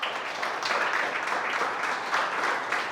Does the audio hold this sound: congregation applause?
yes